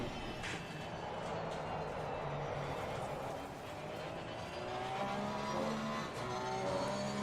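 Race car engine from the Reiter in the sim racing game Assetto Corsa Competizione, a steady loud engine drone with shifting tonal harmonics throughout, with some faint talk mixed in.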